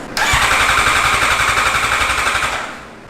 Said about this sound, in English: You want to see what your exhaust sounds like without the exhaust on it?